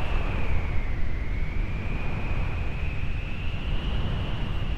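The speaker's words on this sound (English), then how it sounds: "Dude, this place must be super windy." Steady wind blowing in the Final Fantasy VIII video game, a continuous loud rushing hiss with a faint sustained whistling tone, with no voices.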